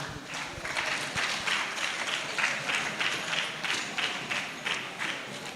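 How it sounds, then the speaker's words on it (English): Audience clapping in rhythmic unison for a university anthem at a formal gathering, a steady crowd-wide beat of hand claps that stays moderately loud and even throughout. "So clap your hands for the TAU anthem."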